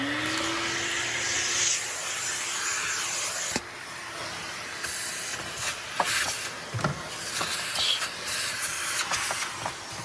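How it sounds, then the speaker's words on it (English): A vacuum cleaner hisses steadily as it sucks gunk off the fuel tank of a Toyota FJ Cruiser, close and continuous, with clunks and scrapes of the nozzle shifting against metal. "All that gunk on there. Let me vacuum that off."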